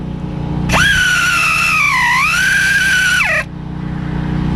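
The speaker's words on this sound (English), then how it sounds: "Now I'll get my drive to take her off. My impact gun." An impact gun spinning out an alternator bolt on a 2000 Nissan Maxima 3.0L: a loud, close, sustained whine lasting nearly three seconds, dipping in pitch midway before winding down abruptly.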